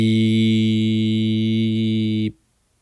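A single long, steady electronic tone holds for a couple of seconds, then cuts off abruptly into silence.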